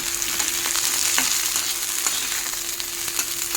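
Thin-sliced brinjal sizzles with potatoes in a pan for a bitter drumstick neem dish, a steady close crackle of frying with occasional stirring scrapes.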